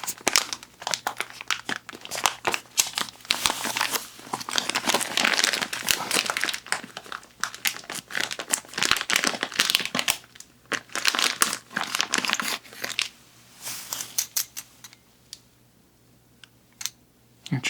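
Combat tape handled in Escape From Tarkov, close crinkling, crumpling and clicky plastic handling in dense bursts, quieting toward the end.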